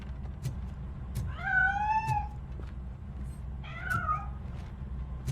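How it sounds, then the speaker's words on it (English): A cat meows twice, each a drawn-out, wavering cry, in the Robocop Rogue City video game, heard over a low steady background hum. "That cat must be hiding inside."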